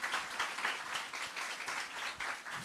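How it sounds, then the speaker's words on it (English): A school audience of fifth and sixth formers claps steadily at Guys Hill High School, a dense, even patter of many hands that holds for the whole moment with no voices over it. "please give a round of applause to Ms."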